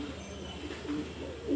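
Pigeons cooing while eating grit: soft, low, close coos over a quiet background in a brief snatch, with a louder coo at the end.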